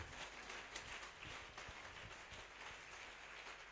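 Congregation applauding during a church worship service, sustained clapping spread across a large room at an even level for the whole stretch, with no voices over it.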